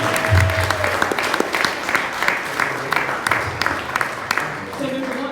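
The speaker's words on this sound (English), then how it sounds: "can I get a round of applause for every single person here tonight?" An audience applauds at a drag show livestream: a crowd's sustained clapping with scattered sharper claps, fairly loud, with a voice and some background tones mixed in near the start and end.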